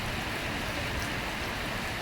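Rain falls steadily in a dense, even hiss of drops with no pauses. It is moderately loud and there is no speech.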